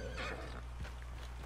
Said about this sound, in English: Stupid freaking horses running away.